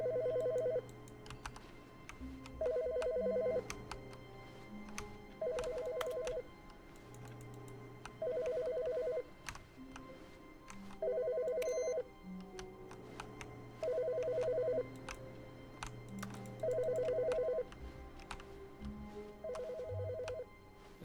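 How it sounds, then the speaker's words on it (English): A telephone in the video game The Stanley Parable rings in regular two-part bursts, repeating about every two and a half seconds over a quiet ambient background. "A phone!"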